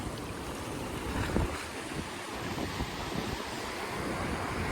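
Sea waves wash and crash continuously on rocks at Kanyakumari, with strong wind buffeting the microphone, a broad roaring rush with no voices.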